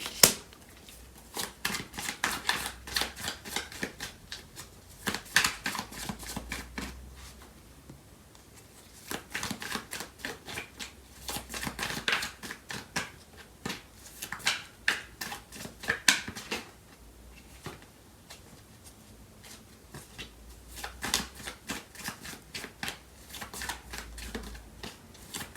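Tarot cards are shuffled by hand, a close, quiet run of riffling, flicking bursts with brief pauses between them, repeating steadily with no talk.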